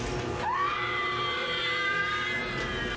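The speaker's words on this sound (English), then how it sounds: "Why is she squealing like a pig?" A woman in the horror-comedy film Scary Movie lets out a long, piercing squeal that jumps up sharply in pitch and then holds steady over quiet background noise.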